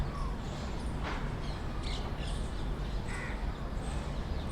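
Birds call outdoors under a beautiful open sky, their caws faint and scattered over a steady wash of distant background noise.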